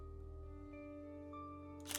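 A camera shutter clicks once in the horror video game Bad Dream: Coma. The sharp click comes right at the end, over a quiet, steady tonal background hum.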